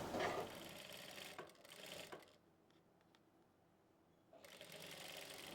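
A sewing machine stitches fabric piping for a round kurti neckline, running in a loud steady whir, pausing for about two seconds, then starting up again.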